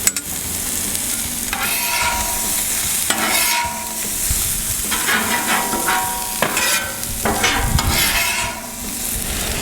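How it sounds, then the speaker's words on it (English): Scallions hitting a hot Camp Chef FTG600 flat top griddle alongside caramelizing food for beef fried rice, a steady loud sizzle punctuated by several bursts of spatula scraping and stirring. "Now let's add these scallions."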